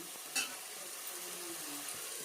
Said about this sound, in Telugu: అవిటని ఇప్పుడు కలుపుతుంది మా మమ్మీ